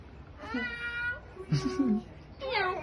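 A cat gives a few drawn-out, melodic meows in a quiet room, with short pauses between them.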